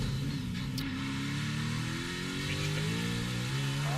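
NASCAR stock car at speed during the 2019 Bank of America ROVAL 400 road-course race, rear wheels hopping under braking: a loud, steady engine drone whose pitch climbs and shifts, heard alone without commentary.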